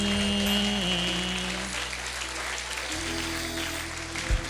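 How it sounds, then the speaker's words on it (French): A church congregation applauds and cheers in acclaim during a worship service, a steady wash of clapping and voices filling the room, with sustained tones underneath. "quelqu'un acclame le nom du Seigneur ce matin."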